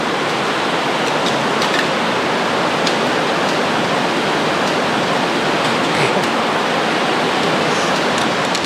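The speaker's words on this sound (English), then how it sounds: "just kind of thrashing up the creek" Wading and splashing up a limestone creek in LaBarge Canyon in the Superstition Wilderness, a dense continuous rush of churning water close by, loud and unbroken, with a few sharper splashes scattered through it.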